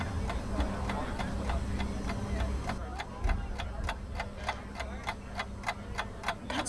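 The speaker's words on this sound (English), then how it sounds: "Can't you hear the ticking?" A clock ticks at a steady, even pace over a comedy speed-dating scene. The ticks sound sharp and regular above a continuous low murmur of room noise.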